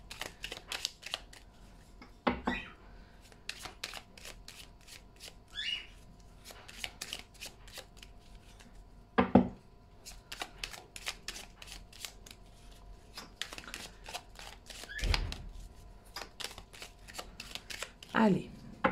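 Lenormand cards being shuffled for a reading, with repeated close riffling and sliding bursts and a few sharper snaps, while a person speaks in French over the shuffling.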